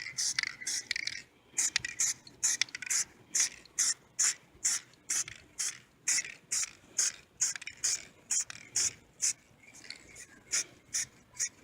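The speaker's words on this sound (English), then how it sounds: "I'm holding the hand sideways, angled slightly down, just letting the paint mist down." An aerosol spray can sprays paint onto a model hand in short, rhythmic hissing bursts, close and evenly repeated with brief gaps between them.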